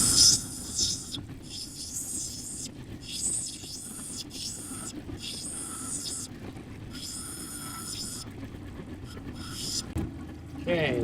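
A lapidary wheel grinds and shapes a Spencer opal, giving a steady wet grinding hiss broken by repeated louder passes as the stone is pressed to the wheel, close and continuous across the whole stretch.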